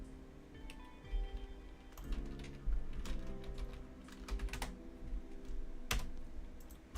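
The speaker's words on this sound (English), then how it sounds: "typing in the stream chat is just the quickest way to get the idea out to people" Someone types on a computer keyboard in a quiet room, with steady soft key clatter and a few louder, sharper keystrokes scattered through.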